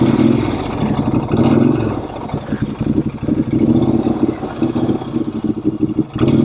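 A 2014 Norton Commando 961 SF motorcycle's air-cooled pushrod engine idles and putters nearby with a steady, lumpy low rumble and a few small blips of throttle.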